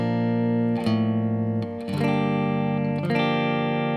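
Acoustic guitar strummed on open strings from the fourth string down with a D in the bass, three ringing strums that sustain and overlap, played close and alone without talk.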